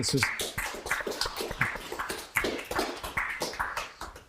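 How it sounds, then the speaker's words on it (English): Applause from a small audience at a local tech meetup in Chilliwack, a dense steady patter of many hands clapping at moderate distance, continuous and fairly even throughout with no voices standing out. "let's give Dave a big round of applause"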